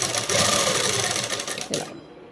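A sewing machine stitches a dress in a short, loud, rapid mechanical whir that stops abruptly near the end.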